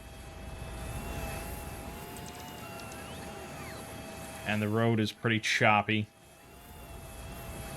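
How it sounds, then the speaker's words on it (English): A plane in the Factorio video game gives off a steady, faint engine whine and hum that runs the whole time under a voice. "I'm sorry about the plane. Like, the noise never stops."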